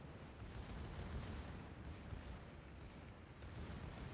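16-inch armor-piercing naval gun salvo in World of Warships, a dense, continuous low rumble and roar lasting several seconds, fairly quiet overall.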